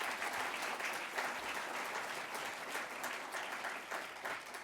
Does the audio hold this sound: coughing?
no